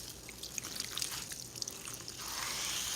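Running water rinsing conditioner out of a client's hair in a salon, a steady soft spray and trickle that swells louder toward the end, close, with no talking.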